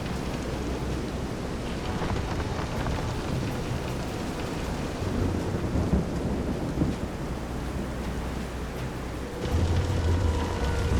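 A thunderstorm with rain at sea in the video game Visions of Mana, heard aboard a pitching boat: a continuous wash of heavy rain under low rolling thunder, with a louder rumbling surge near the end.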